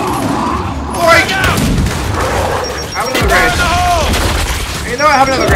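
Gears 5 combat with grenade explosions and bursts of gunfire, loud booms and rattling shots amid chaotic battle noise, with a voice talking over the action.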